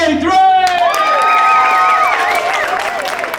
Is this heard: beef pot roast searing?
no